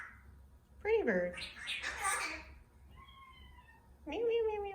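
Close, clear meows come in two drawn-out calls separated by a quieter, rougher sound, over a low steady hum in a home setting.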